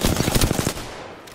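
Rapid automatic gunfire from Apex Legends rattles out in a fast, loud burst of close shots, then cuts off and leaves a fading tail.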